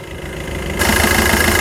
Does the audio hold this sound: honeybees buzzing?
no